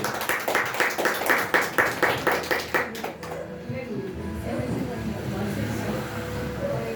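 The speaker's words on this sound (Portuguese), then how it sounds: "Vamos receber o servo do Senhor com as palmas bem alegres." Church congregation claps hands joyfully in a quick, even rhythm for about three seconds, then the clapping stops and a voice carries on speaking over faint room sound.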